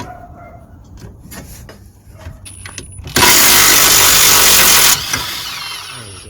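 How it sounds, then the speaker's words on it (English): Power tool undoing a bolt on a Volvo XC60 lower suspension control arm, a loud steady whirring burst of about two seconds after quieter workshop clatter, then a softer tail. "I'm just gonna undo this bolt here now."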